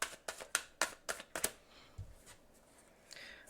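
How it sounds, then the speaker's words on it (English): Oracle cards are riffled and shuffled by hand in quick, crisp bursts, about seven close together, then a soft thump and a faint rustle. "I'm going to give it one more shuffle just in case we get 3 and 3"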